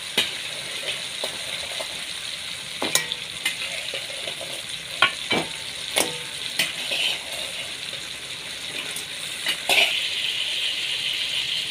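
Crab pieces fry in a pan with softened tomatoes for a pepper crab gravy, a steady close sizzle broken by intermittent scraping and clinking of a spoon as the mixture is stirred, with no talking.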